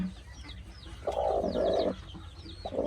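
A brooding mother hen sitting on her eggs gives low clucking calls in short bursts, with small chirps from other birds in the background.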